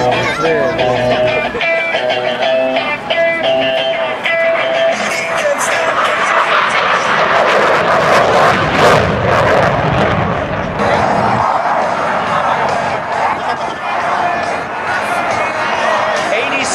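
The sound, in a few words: F18 jet GE engines in full afterburner climbing vertically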